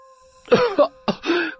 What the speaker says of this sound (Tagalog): Ayan, inatake ka na naman ng ubo mo.